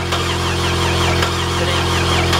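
A Buick LeSabre engine cranking and turning over after its starter relay is jumped, a steady continuous mechanical drone with a faint squeal, close and loud throughout.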